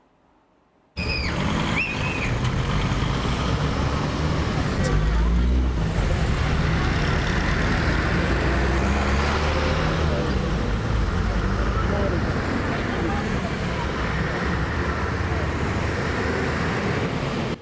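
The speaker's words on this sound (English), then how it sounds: "Over 2 million gasoline cars inch through Accra streets every day" Dense road traffic of gasoline cars crawling through the streets of Accra, a steady broadband roar of engines and tyres with wind buffeting, continuous and fairly loud after a brief quiet start, with no clear single vehicle standing out.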